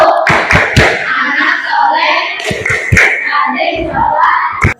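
A school class claps together in a fast rhythmic clapping game, the sharp claps sounding loud and close over excited children's voices throughout.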